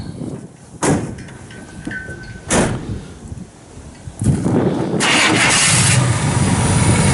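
An old truck with a 400 turbo transmission cranks and fires up after a few door clunks, settling into a loud, steady idle close by.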